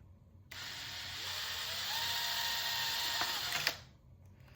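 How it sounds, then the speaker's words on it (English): A power drill whirs continuously for about three seconds through the plastic lid of a 1984 Hasbro Proton Pack toy, starting and stopping abruptly, its pitch dipping slightly as the bit bites through. "Just kind of drill through there."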